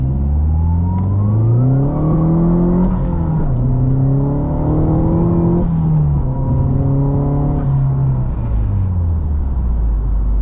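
A modified Mazdaspeed accelerating hard in second gear: a loud, close engine note climbs steadily in pitch, dips briefly, then climbs again several times over about ten seconds, with no talking.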